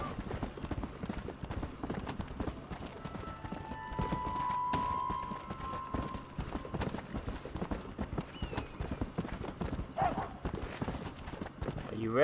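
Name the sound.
horse hooves clip-clop, Red Dead Redemption video game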